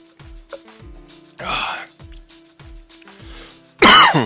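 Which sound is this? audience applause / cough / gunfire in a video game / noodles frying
cough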